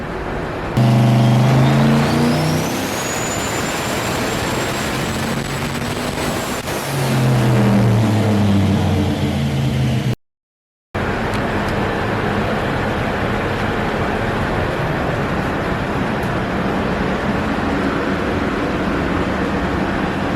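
A turbocharged LS-swapped truck engine runs under boost: a loud, dense mechanical roar with a rising turbo whine near the start, a second surge of revs, a brief cut to silence, then the engine drones on steadily.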